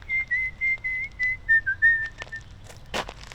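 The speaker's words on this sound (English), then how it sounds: "she recorded that beloved whistling" A recording of a father's beloved whistling plays back: a short melodic tune of clear whistled notes, a little distant and alone, ending in a brief burst of rustle.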